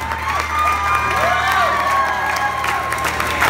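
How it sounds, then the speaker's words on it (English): Wedding guests on a dance floor applaud and cheer for the newlyweds, a loud sustained wash of clapping with shouts and whoops over steady background music. "a tremendous round of applause for Mr. and Mrs. Eric Guminale"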